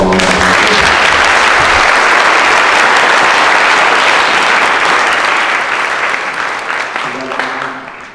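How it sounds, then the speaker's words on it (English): An audience at a public meeting breaks into loud, dense applause that holds steady for several seconds and then gradually thins out toward the end. "let's all give Krista a round of applause"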